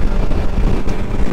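BMW S1000XR motorcycle engine revving above 6,000 RPM, a loud, dense roar mixed with heavy wind rush.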